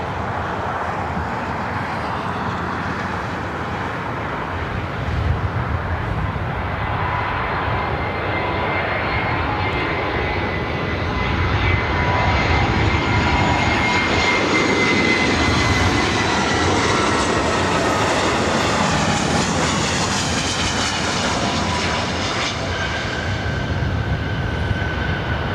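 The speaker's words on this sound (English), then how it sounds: "We got that old Northwest A320 with Delta coming in from SFO." Old Northwest-livery Delta Airbus A320 arriving at LAX from SFO, a steady loud jet engine roar that swells and holds across the whole stretch, broad and droning with a thin whine rising toward the end.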